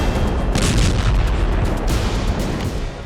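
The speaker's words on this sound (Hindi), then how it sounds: "3 दिन से जबरदस्त गोलीबारी हो रही है।" Gunfire and bombing explosions in Gaza come as a dense, continuous barrage of booms and cracking shots, loud and reverberant, rolling on without pause for about three seconds.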